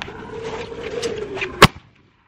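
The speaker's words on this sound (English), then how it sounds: "you got to throw it and then shoot instantly" A single sharp shotgun report while shooting skeet outdoors, one loud crack following a low hum and faint background, then quick silence.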